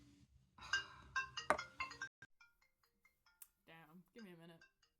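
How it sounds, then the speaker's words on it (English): A smartwatch, paired to a non-Apple phone, sounds an Apple-style incoming call tone: a bright, close, repeating chime pattern of tonal pulses, with a short voiced sound partway through. "I don't have an Apple phone, but it has the like Apple call sound effect"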